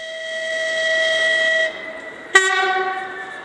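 A Kharkiv–Uzhhorod passenger train sounds a long sustained horn while arriving at the platform in Sumy, followed by a sharp clank and a second, slightly different horn blast, all fairly close and clear.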